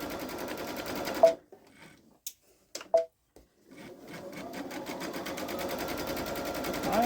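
Babylock Solaris sewing machine stitching through thick fabric with batting underneath, a steady close mechanical whir in two runs separated by a few seconds of near silence and small handling clicks.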